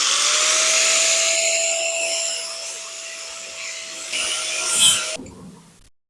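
Power saw or grinder cutting steel for a Coleman B200RSV minibike foot peg reinforcement, a steady loud whining cut with a sustained tone for about five seconds, then a brief surge before it cuts off and spins down.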